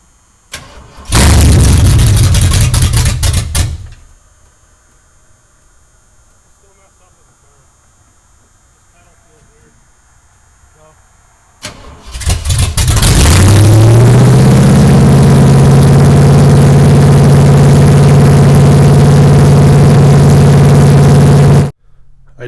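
A 1976 Ford F150 engine cranks loudly for a few seconds and cuts out, then after a quiet pause cranks again, catches and settles into a steady, loud idle up close.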